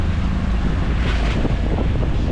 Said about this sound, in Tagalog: Maalon, bukod sa maalon, mahangin.